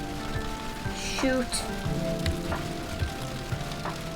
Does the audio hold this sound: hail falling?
yes